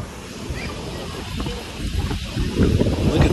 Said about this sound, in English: It's mad windy.